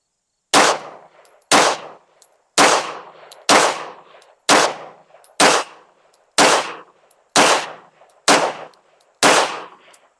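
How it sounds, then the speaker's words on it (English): A Beretta APX A1 pistol fires a group of ten loud, close shots in a steady rhythm, each report followed by a short decay and a faint metallic ping. "Let's shoot a group at the bottom left."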